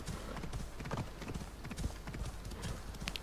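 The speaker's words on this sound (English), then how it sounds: "Galloping on the beach." Horse hooves gallop across a beach in the video game Assassin's Creed Odyssey, a rapid, even clip-clop rhythm heard close and alone, with no talking.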